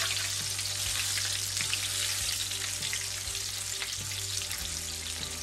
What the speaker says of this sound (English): More of a shallow fry than a deep fry.